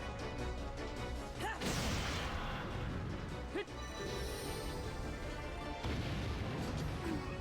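Explosion spell attack in the Suikoden video game, a dense roaring blast with crashing bursts over steady game audio, with fresh impacts near the start and again toward the end.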